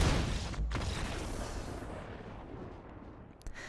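Raid Bombardment attack effect in the card game MTG Arena, a loud, crackling explosive burst that opens strongly and then decays into a fading rumble, with a small sharp hit near the end.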